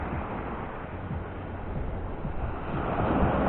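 Surf rolls onto Great Bay Beach in Jamaica, a continuous wash of waves mixed with wind noise buffeting the microphone, growing slightly louder toward the end, with no voices.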